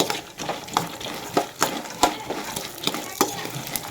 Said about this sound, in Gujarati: હવે સેજ ચમચી આપણે થોડી હળદર પાવડર એડ કરશું. પછી આને આપણે મિક્સ કરી લઈએ.